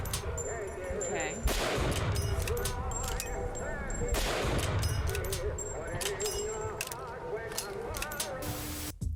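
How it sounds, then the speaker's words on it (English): A generic Mauser-style bolt-action rifle fires in BioShock Infinite, with a few loud shots booming out amid clinking bolt and reload sounds and a background game score. A voice talks over part of it. "Now, this is quite a generic bolt-action rifle."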